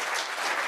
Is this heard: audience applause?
yes